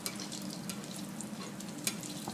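Aloo tikki potato patties fry in a hot pan while being basted, giving a steady, close sizzle with occasional sharper pops and scrapes from stirring.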